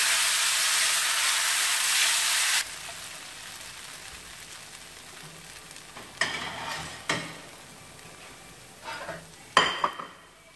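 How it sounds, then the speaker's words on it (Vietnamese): Rice vermicelli stir-fried with fresh herbs in a pan sizzles loudly at first, then drops to a quieter hiss broken by several scraping, clattering stirs of the utensil against the pan. "mình cho một ít rau thơm này, đảo cùng cho nó tạo màu sắc đi"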